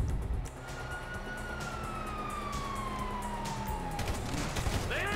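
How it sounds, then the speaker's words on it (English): A wailing police siren in a GTA video game sweeps slowly downward in pitch over steady background noise, with a second siren beginning to whoop near the end. "You hear that? Sirens!"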